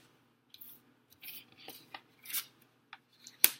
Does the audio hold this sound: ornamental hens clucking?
no